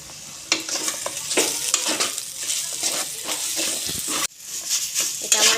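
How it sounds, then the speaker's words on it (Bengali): Ground jackfruit seed paste fries and is stirred in a pan, with a steady loud sizzle and repeated scraping strokes of a utensil close by, continuing without a pause. "এটাকে আমি ভালো করে ভেজে নেব নেড়ে চেড়ে।"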